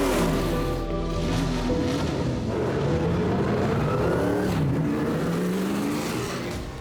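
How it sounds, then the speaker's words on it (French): Historic GT and prototype race cars, including a McLaren M6B and Lola T70s, on the grid at the Spa-Classic 2023 meeting, their engines droning and revving loudly and continuously with no voices. "Sur la grille, on retrouve en pole position cette rare McLaren M6B et puis les très efficaces Lola T70 et autres chevrons B19."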